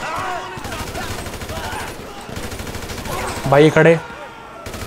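Gunfire during a GTA V shootout, a short burst of rapid shots cutting in sharply near the end over game sound, with someone talking excitedly throughout.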